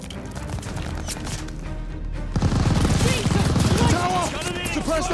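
Sustained machine gun fire in the Call of Duty Vanguard campaign, a dense rattle of rapid shots that grows heavier midway, mixed with battle noise and voices speaking over it.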